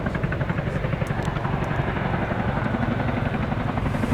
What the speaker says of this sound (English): The Chinook has been continuously used by the Air Force as a battlefield helicopter for over 40 years